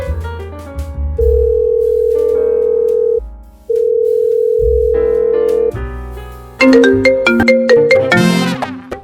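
An outgoing phone call rings out as steady tone pulses separated by short gaps, followed by a bright electronic ringtone melody with quick repeating notes, loud and close.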